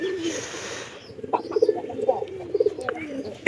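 A pigeon in a loft coos in several short, throaty bursts near the middle and end, close by over soft background noise, with a few light knocks.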